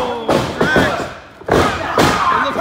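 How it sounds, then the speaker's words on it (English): A wrestler crashes down with a diving headbutt in a wrestling ring, giving heavy thuds and slams with crowd noise, two loud bursts about a second apart, while commentators talk over the action. "Diving headbutt! Oh, diving headbutt"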